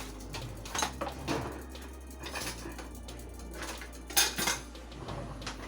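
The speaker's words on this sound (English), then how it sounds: "I'm gonna give this one good stir real fast." Food being stirred in a pot of stuffed bell peppers with tortellini: a spoon clatters and scrapes against the pot, with a couple of louder knocks over a low steady hum, close and moderately quiet.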